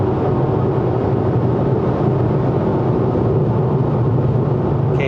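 Engine of a Suzuki Swift Sport ZC33S with six-speed manual, held at 58% throttle on a Malaysian highway test drive, a steady loud drone with constant road and wind noise throughout, no voices.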